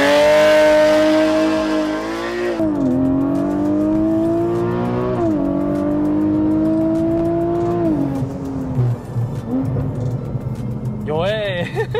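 A Porsche 718 Boxster GTS with a naturally aspirated 4.0 engine makes a launch-control start, revving hard and climbing through upshifts in loud rising sweeps, then easing off while a voice talks inside the cabin.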